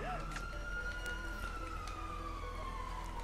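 Police sirens in the video game GTA Online wail in a long, slowly falling tone over steady low engine rumble, moderately faint as they approach.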